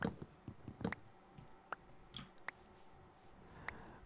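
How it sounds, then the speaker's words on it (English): A computer keyboard being typed on during a Minecraft gaming session: faint, sparse clicks scattered irregularly against a quiet background. "Can you guys hear my keyboard?"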